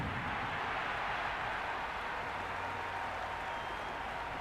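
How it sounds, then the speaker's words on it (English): A large video game crowd at a cricket match roars and cheers continuously, a dense wash of noise with no letup, sounding like a packed stadium. "The crowd are really getting quite raucous."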